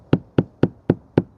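Knuckles rap on the rear window of a Range Rover L405 whose bonding has failed, making five evenly spaced, hollow knocks that are loud and close with quiet gaps between them.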